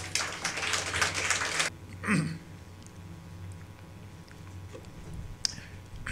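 A church congregation claps together during a worship service, a dense burst of many hands lasting under two seconds that then stops, followed by quieter room sound with a few scattered taps.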